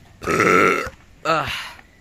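Two loud, close burps, a long rough one followed by a shorter voiced one, with no talking over them.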